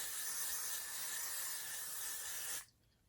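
Got To Be hair spray is sprayed onto a bald cap in one steady, close hissing burst lasting about two and a half seconds, then cuts off abruptly into quiet, with no talk.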